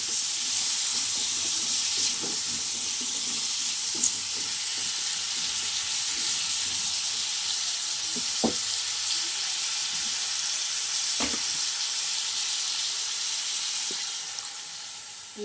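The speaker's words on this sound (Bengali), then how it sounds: "এবার একটু নাড়াচাড়া করে জল দিয়ে দেবো, হালকা একটু ভেজে নেব।" Food seasoned with salt and turmeric fries in a pan with a soft, even sizzle, while a few sharp scrapes and knocks of stirring cut through now and then.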